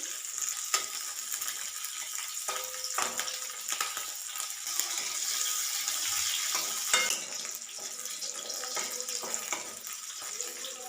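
Green chillies roast in a pan over a high gas flame, a continuous crackling sizzle broken by scattered pops and the occasional scrape of stirring.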